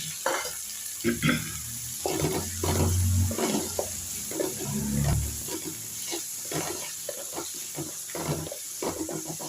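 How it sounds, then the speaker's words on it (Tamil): Two very large chopped tomatoes sautéing in oil in a pan, cooking down soft, with a steady sizzle and repeated scraping stirs, some heavier low thumps of the spoon, and no voices. "இது நல்லா வதங்குங்க"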